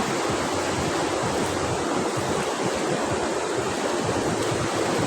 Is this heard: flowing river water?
yes